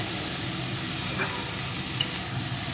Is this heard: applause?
no